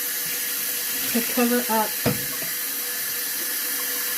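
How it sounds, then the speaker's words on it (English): Hot tap water running from a faucet, a steady, fairly loud hiss of flow near the microphone throughout, with a person talking briefly over it. "And then dump in some hot water, just hot tap water,"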